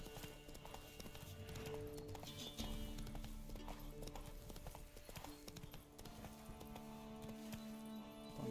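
The horse Roach's hooves in the video game Witcher 3, a steady rhythmic clip-clop of trotting hooves with an occasional snort, mixed with game ambience and faint game music.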